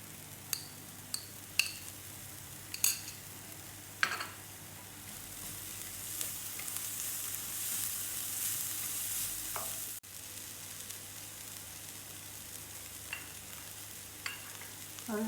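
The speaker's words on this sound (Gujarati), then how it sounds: "હવે હું એમાં ડુંગળી નાખીશ" Onion sautés in a pan, a quiet sizzle with a few metallic clinks of a spoon at first, then a louder hissing burst for several seconds before it settles back to a soft fry.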